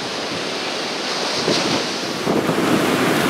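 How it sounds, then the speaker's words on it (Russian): Very strong wind buffeting a hiking tent pitched outdoors, a loud continuous roar and rush of gusts battering the fabric and microphone, swelling and surging with no voices. "Сильнейший ветер, все уносит. Палатка еле держится"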